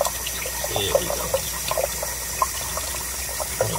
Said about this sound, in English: I'm gonna fill up the water.